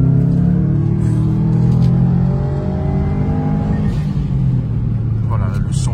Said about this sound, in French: Le son Subaru, la patte Subaru.